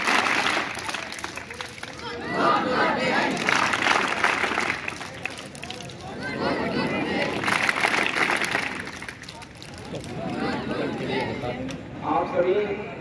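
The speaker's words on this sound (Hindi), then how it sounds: "वेरी गुड ताली बजाएं।" Students at an intercollege program applaud in repeated waves of crowd clapping, rising and fading several times, with a voice over a loudspeaker heard between bursts.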